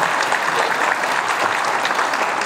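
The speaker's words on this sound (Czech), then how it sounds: "Klidně, ale můžete tleskat." An audience at a live stage performance claps in a dense, steady burst of applause, loud and continuous throughout.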